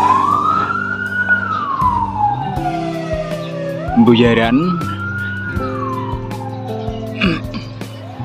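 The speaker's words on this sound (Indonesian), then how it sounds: "nah, ada ambulan itu" An ambulance siren wails up and down as it passes through the Buyaran underpass on the Semarang–Demak toll road, loud and near over rumbling traffic, with a voice speaking briefly.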